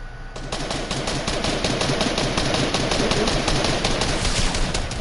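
Rapid automatic gunfire rattles in a fast, steady stream for about five seconds in a shooter game, loud and close with no pauses between bursts.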